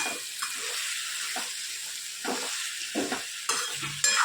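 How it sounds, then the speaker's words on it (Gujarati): Vegetable curry with masala being stirred in a pan, a steady sizzle with scraping spoon strokes at irregular intervals, fairly close and without voices. "સરસ આપણે એને મિક્સ કરી લઈએ"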